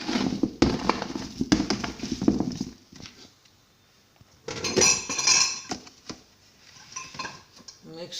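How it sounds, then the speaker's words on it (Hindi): A spoon clinks and scrapes against a container while spices are mixed into mango pickle, with irregular close taps and rattles and quieter pauses between them. "अब इसको अच्छी तरह मिक्स कर लेना है।"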